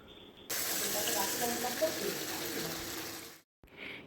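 Boiled bottle gourd hits a pan of well-fried, dried-down spice paste for Bengali lau shukto, setting off a loud, steady hiss of sizzling that lasts about three seconds and then cuts off abruptly, followed by a short quieter sound.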